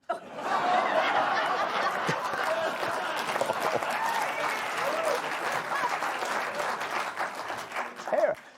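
Studio audience at a late-night comedy show applauds a joke with laughter and chuckles mixed in, a loud, steady wash of clapping that runs throughout and swells again at the end.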